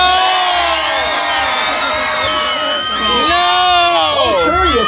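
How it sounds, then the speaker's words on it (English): A crowd at a sword-swallowing and fire street show cheers loudly, with overlapping shouts, whoops and high voices rising and falling close by. "Oh, sure, you clap and cheer for that part."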